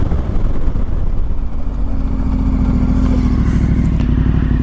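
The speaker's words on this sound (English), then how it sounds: "So now I will try a full braking test from 100 kilometers," KTM 1290 Super Adventure R motorcycle on Michelin Anakee Wild tyres braking hard from 100 km/h with full ABS, a loud steady engine and road roar holding throughout, with a deep low rumble and no voices.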